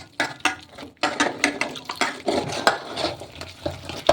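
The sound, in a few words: stirring flour and rice flour batter with water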